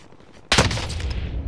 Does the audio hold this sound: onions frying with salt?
no